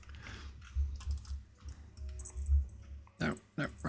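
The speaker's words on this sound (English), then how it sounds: "No, don't lay on the keyboard." A cat walks across a computer keyboard during a Starship Simulator development stream, producing a few soft, irregular key clicks and presses that are quiet and close, followed by a couple of louder clattering bursts near the end.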